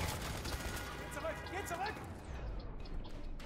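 Enemy gunfire in the first-person shooter game F.E.A.R. 3: dense, sustained bursts of rapid shots layered with other game noise, loud and continuous throughout.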